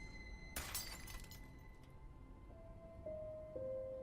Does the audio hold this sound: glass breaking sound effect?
yes